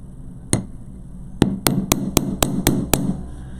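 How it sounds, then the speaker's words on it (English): The back of a jewelry wire piece is hammered with a small hammer: one sharp tap, a pause, then a quick run of six close, bright metallic strikes. "I'm going to flip it, hammer the back"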